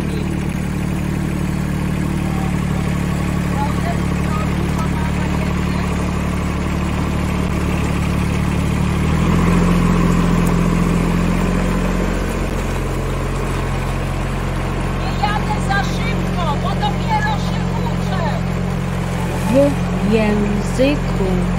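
A small tracked tractor's engine runs steadily at idle with a low, even drone that strengthens a little partway through, while a voice talks over it.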